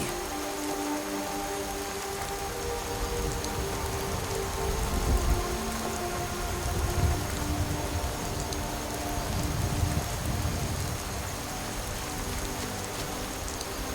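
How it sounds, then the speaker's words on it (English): Steady rain in the video game Skyrim, a continuous dense patter of drops on surfaces with low rumbling swells, even and fairly loud throughout with no voices. "Smell that rain."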